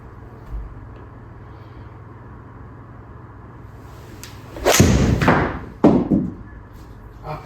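A Ben Hogan PTx Tour iron strikes a golf ball in one sharp, loud crack over faint background hum, followed by a couple of softer thuds.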